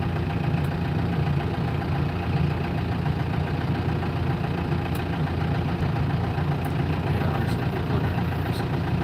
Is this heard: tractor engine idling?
yes